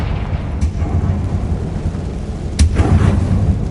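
Confringo fire-blast spell cast in Hogwarts Legacy inside a closed mine that looks like a tomb, heard as a loud booming rumble with a sharp crack partway through, over heavy low background noise.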